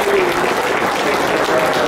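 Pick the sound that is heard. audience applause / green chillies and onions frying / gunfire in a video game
audience applause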